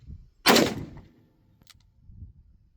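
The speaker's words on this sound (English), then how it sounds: "I'm gonna fire another." A single loud, close gunshot from a Smith & Wesson 629 Classic Deluxe .44 Magnum revolver cracks sharply and then fades with a short echo, with quiet surroundings afterward.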